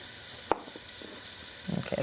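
Beef frying in a pan, a quiet steady sizzle broken by a sharp scrape of stirring and a few clattering bursts of utensil against pan near the end.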